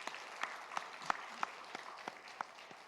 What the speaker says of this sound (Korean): 함께 모여있는 우리 어린이들 또 중고등부 학생들 우리가 격려하고 축복하는 박수 한번 보냅시다